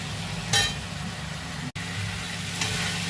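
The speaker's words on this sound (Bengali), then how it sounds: "ঢাকাটা খুলে দিলাম, জল বেরিয়ে গেছে। এবারে আস্তে আস্তে ভাজা হবে।" Fenugreek greens fry gently in an uncovered pan after their water has cooked off, a soft steady sizzle with low background hum, a brief louder crackle early on and a short dropout midway.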